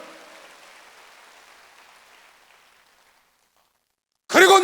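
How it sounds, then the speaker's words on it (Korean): A church congregation's applause during a Sunday worship service, a broad wash of clapping that fades steadily over about three seconds into silence, then a loud burst of a voice at the very end. "빨리 박수 하세요"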